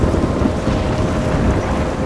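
A thunderstorm rages in the video game Life is Strange: heavy, steady rain pours with a deep continuous rumble of thunder underneath, loud and close, with no talk.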